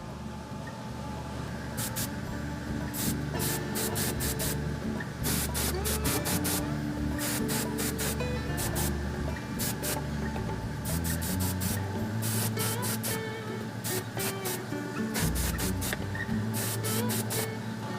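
Repeated short bursts of an airbrush spraying thinned oxide red weathering onto a model diesel locomotive, with steady hiss pulses recurring through the clip close to the mic over a constant background hum.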